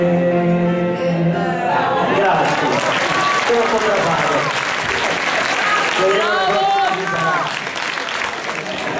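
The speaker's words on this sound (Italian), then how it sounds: "Non voglio un altro applauso" A theatre audience at an amateur music show applauds after a song, the clapping loud and rolling on under voices and a host talking, with a short sung or called phrase heard through the noise.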